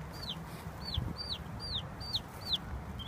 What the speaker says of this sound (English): That's the distress peep.